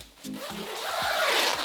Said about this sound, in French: on remonte la fermeture éclair.